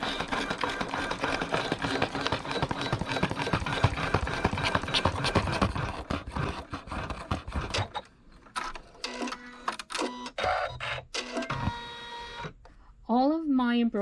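An embroidery machine sewing a basting outline stitch on a windmill design, a dense rapid mechanical whirring and clatter that breaks into stop-start bursts and short motor whines toward the end.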